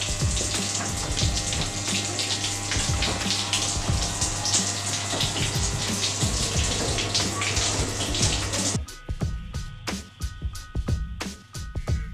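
A washing machine fills with water: a steady loud rush and gush of running water with a low hum underneath for several seconds, then the flow cuts off, leaving scattered clicks and knocks.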